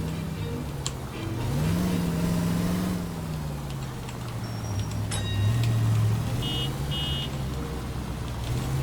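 A car in the L.A. Noire video game is driven recklessly, its mid-pitched engine droning steadily and surging in revs as it speeds along, loud and continuous throughout.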